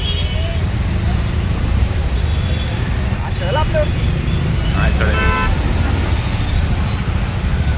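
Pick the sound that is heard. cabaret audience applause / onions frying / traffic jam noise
traffic jam noise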